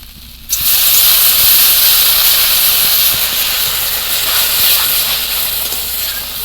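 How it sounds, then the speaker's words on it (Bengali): Water poured into spice masala frying for a fish chorchori with green tomatoes: a sudden loud burst of steamy hissing sizzle that carries on steadily, close and alone. "মশলাগুলো খুব ভালো করে কষানো হয়ে গেছে এবার জল দিয়ে দেবো"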